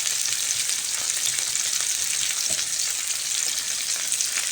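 Shrimp frying in a pan before bitter gourd goes in, giving a loud, steady hiss and crackle of hot oil that runs unbroken the whole time, with no voices over it.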